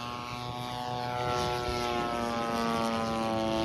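Radio-controlled scale Stuka model airplane at a scale contest rolling overhead, its propeller engine buzzing steadily with a rising, shifting pitch as it passes fairly near and loud.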